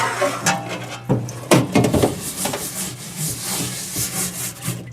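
A transmission pan magnet from a supercharged Corvette is scrubbed clean by hand, making a series of close, uneven brushing and rubbing strokes that come in quick bursts.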